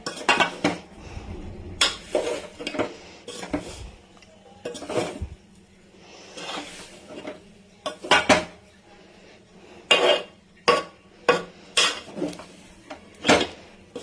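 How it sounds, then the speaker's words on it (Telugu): A spoon stirring rava laddu mixture with cardamom powder in a pan, giving repeated near scraping and clinking strokes against the metal, irregular at first and then steadier, with no talk. "బాగా మిక్స్ చేసుకోవాలి ఫ్రెండ్స్."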